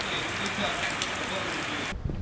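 Steady rain falling outside, a dense even hiss of drops that cuts off abruptly near the end.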